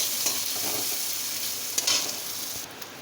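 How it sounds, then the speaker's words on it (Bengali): Grated coconut fries in a pan with onion, ginger, garlic and green chili for dubki kari, a steady close sizzle broken by a few scraping stirs of a spoon, with no voices. "নারকেলটা দিয়েও ভালো করে ভেজে নেব।"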